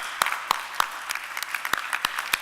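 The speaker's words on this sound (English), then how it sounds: "I think we should give him a big round of applause" An audience gives a round of applause at a live event, scattered individual claps at moderate distance rather than a dense ovation, fairly quiet and alone without talk.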